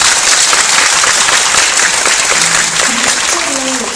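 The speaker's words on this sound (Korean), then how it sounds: "박수 한번 받아주세요." A cinema audience at a guest-visit screening of the film Neko Samurai 2 gives steady, full-room applause, even and loud from start to finish, tapering slightly as a voice begins near the end.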